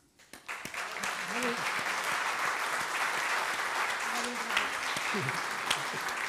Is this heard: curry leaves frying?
no